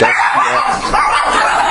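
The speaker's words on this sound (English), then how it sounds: "yeah, we got some dogs here" Pet dogs yipping and whining indoors while watching animals on TV, close and loud, with continuous excited high-pitched vocalizing throughout.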